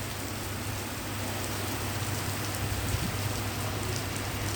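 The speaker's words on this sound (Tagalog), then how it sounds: "ang lakas ng ulan sa Abu Dhabi." Heavy rain pours steadily in Abu Dhabi in a dense, constant hiss with a low rumble underneath, loud and close throughout.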